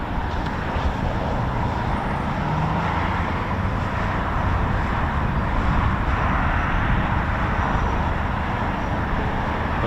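Red Arrows synchro pair jets flying over RAF Waddington during winter training, a continuous broad roar of jet engines that stays loud and steady throughout with no break.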